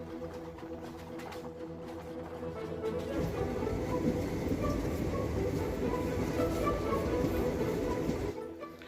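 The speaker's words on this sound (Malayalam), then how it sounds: "ട്രെയിൻ അതിവേഗത്തിലാണ് പോയിക്കൊണ്ടിരിക്കുന്നത്." A passenger train heading to Velankanni runs fast through a small station, its wheels and carriages building into a loud, continuous rumbling clatter heard from on board that swells about a third of the way in and holds steady.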